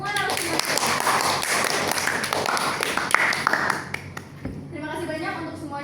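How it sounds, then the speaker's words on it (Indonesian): An audience claps for the speakers at a talk show, with dense, fast hand claps going steadily before thinning out near the end while a voice talks over it. "Kita kasih tepuk tangan untuk Kak Rahel dan semua narasumber"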